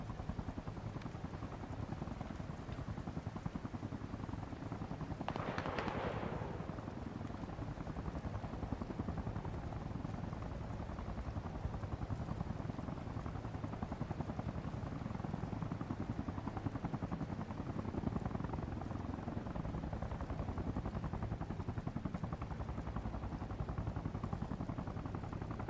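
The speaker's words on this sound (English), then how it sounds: "Fuck is this heli?" Helicopter in a Jeep simulator game, its steady rotor drone holding loud and continuous throughout, with a brief rushing swell early on; no one speaks.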